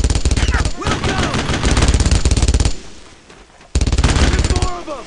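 Sustained bursts of heavy machine gun fire in the World War II shooter game Brothers in Arms, loud and close, with a brief pause before another burst, as soldiers shout over the gunfire.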